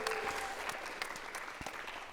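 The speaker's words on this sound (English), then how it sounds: "and a round of applause." Brief applause at a Seattle community event on solidarity against South African apartheid, a modest crowd clapping steadily and fairly softly, with a few sharper individual claps standing out.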